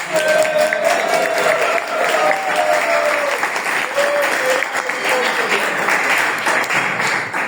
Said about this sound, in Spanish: Más aplausos, ¿no?